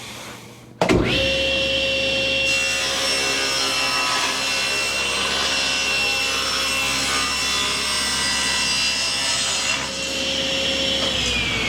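A power saw cuts through leftover piano wood for a step stool. A sharp start leads into a loud, sustained whining cut of about ten seconds that dips near the end, with no speech.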